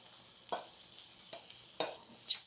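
Cilantro and pepper get stirred into cooked food in a pan after the heat is off, giving a few soft, separate scraping strokes over a faint background hiss.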